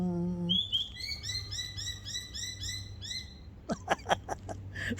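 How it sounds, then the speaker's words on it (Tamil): Birds chirp in quick repeated bright notes, with a run of rhythmic tweets followed by sharper, louder chirps near the end, heard clearly over a low background hum. "பறவைகள் சிரிக்கின்றன."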